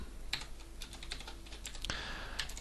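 Code being typed on a computer keyboard, a few sparse, quiet key clicks close up over a faint steady hum, with no talking.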